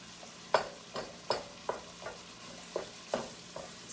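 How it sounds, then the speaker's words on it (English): Ground meat browns in a pan for a hamburger casserole, with a steady low sizzle broken by repeated scraping stirs of a utensil at a regular rhythm, close and moderately loud, with no talking. "We're just going to brown this meat up."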